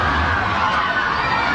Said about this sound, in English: Oh, She's cheering.